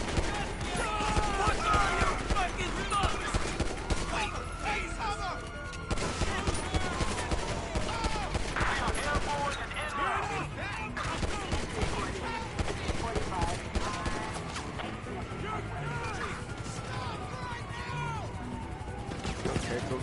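Dense bursts of pistol and other gunfire in Grand Theft Auto during a five-star police chase, loud and continuous with crashes and game noise, a voice talking over much of it.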